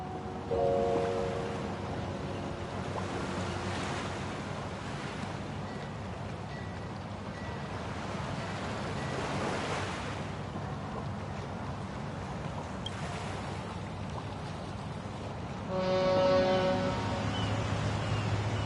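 Waves wash steadily as a boat arrives at a dock in the Honkai Star Rail video game, a continuous soft surf with faint tonal chimes near the start and end.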